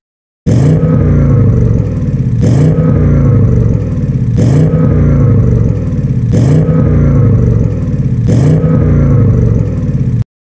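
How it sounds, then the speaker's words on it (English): An Audi S8 engine in the video game Sakura School Simulator revs hard to its limiter again and again, loud and close, with sharp cut-offs between each burst of revving. "We try exhaust sound check."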